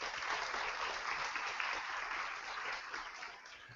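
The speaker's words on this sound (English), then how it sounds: "Let's give them a round of applause." Audience applause fills a keynote hall at a coding event, a steady wash of many hands clapping that holds for a few seconds and then thins slightly toward the end.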